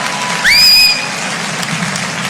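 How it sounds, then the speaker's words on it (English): Audience applause greets a comedian's introduction at an after-dark comedy show: steady crowd clapping throughout, with a brief rising whistle early on. "give a round of applause"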